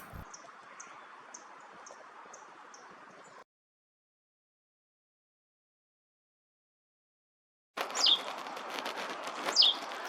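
A Hermit Warbler calls in Arizona birding country: a quick series of thin, high chirps repeats, breaks off into silence, then a few more sharp notes return near the end.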